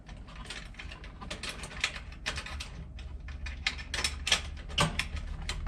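Screw being backed out of the wire clamp on an electric range cord, a run of quick ratcheting, clicking mechanical ticks, close and fairly steady throughout, with no talking.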